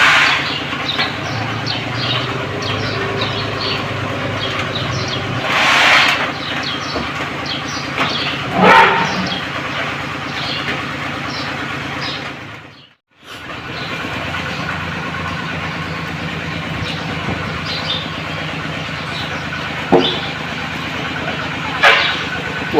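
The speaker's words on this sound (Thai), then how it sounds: "ตัวรถไถนาครับ" A farm tractor engine runs steadily close by as rain falls, a continuous low rumble with a broad wash of noise that dips out briefly midway and then resumes.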